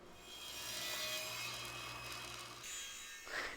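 Saw cutting a glued-up wooden table base to final length on an Incremiter 5000 sled, a steady close rasping drone for most of the clip that stops near the end, followed by a brief rough scrape.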